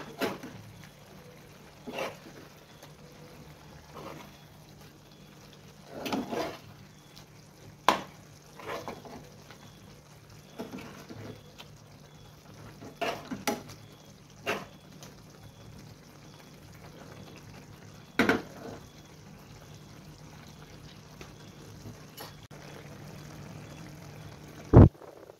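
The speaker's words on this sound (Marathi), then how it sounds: "ढाकण उघडून आम्ही ह्याला हलक्या हाताने मिक्स करून घेऊया।" Goan sardine ambot tik curry gently stirred in a pot, giving faint, scattered spoon scrapes and soft knocks at irregular intervals over a quiet background.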